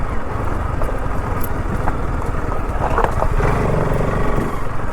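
A vehicle drives off-road over a rough, rain-washed track near a fort, its engine a steady, close rumble with bumps and rattles and no talk.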